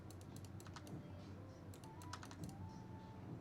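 Computer keyboard keys clatter while editing in Photoshop, quick clusters of light taps in short bursts with pauses between, close and crisp over a low background hum.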